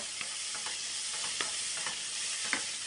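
A spice mixture for bitter gourd masala fries and is stirred in a pan, giving a steady dense sizzle broken by soft scraping stir strokes, close and continuous with no voices.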